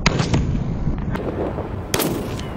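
Pistol shots fired at a 70-yard target at an outdoor shoot, with two sharp close reports near the start and another about two seconds in, each ringing briefly over steady background noise.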